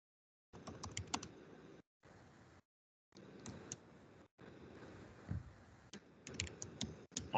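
Quiet clicking keystrokes on a computer keyboard during an online class, typed in irregular bursts separated by short silent pauses, close and soft, with no speech.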